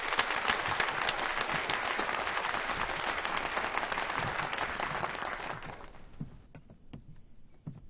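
An audience applauds as a chief guest hands an award to a quiz competition winner at a ceremony. Dense, steady clapping fills the first few seconds and then fades away, leaving a few scattered claps.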